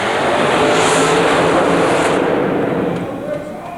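The Red Heat dragster engine at a super modified mud race near Albany, New York, gives a loud, sustained roar that fades slightly toward the end, with a commentator's voice running over it.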